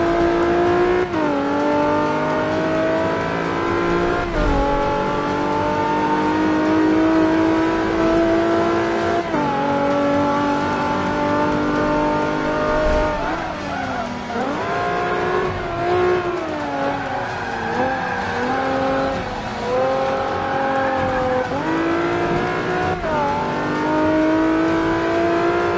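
An Abarth 500 in Forza 5, rebuilt as rear-wheel drive with a 370Z V6 engine, races around the Nürburgring. Its engine revs loud and close, climbing through repeated gear shifts with brief drops and a few tire squeals.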